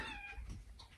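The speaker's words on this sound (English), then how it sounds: "That is why she meowed." Late at night indoors, a house cat gives a short meow close by, rising then fading, over a steady low room hum.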